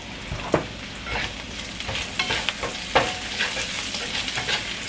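Onions cooking in a pan and being stirred, a steady sizzle broken by repeated scraping strokes of a utensil at an uneven rhythm, close and moderately loud.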